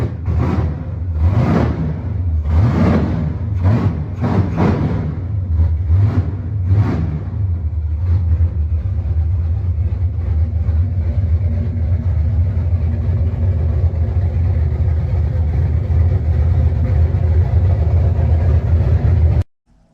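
LS V8 swapped into a Nissan 240SX, running with a loud, close, steady low rumble. It idles near the start, gets a few sharp throttle blips, settles back to idle and then cuts off abruptly.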